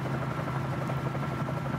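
A Bell 47J Ranger helicopter in Microsoft Flight Simulator gives off a steady, loud rotor and engine drone that hums evenly the whole way through, with no talking over it.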